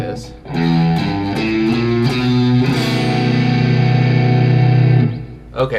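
Electric guitar with distortion plays a blues turnaround lick, a string of quick picked notes settling into a ringing sustained chord, loud and close.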